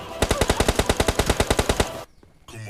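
AKM rifle firing in PUBG Mobile Lite, a loud rapid burst of about fifteen evenly spaced shots followed by a short pause and a faint tail of game sound.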